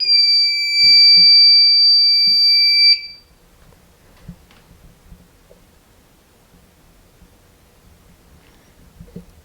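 A fire alarm panel's shrill electronic piezo beep sounds steadily for about three seconds, then stops, leaving faint handling noises and rustles.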